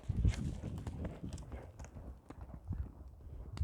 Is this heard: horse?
yes